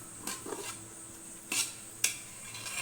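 A spoon scrapes and knocks against a pot while stirring thick rice flour kali, a few distinct clinks and scrapes spaced apart under a low steady background hum.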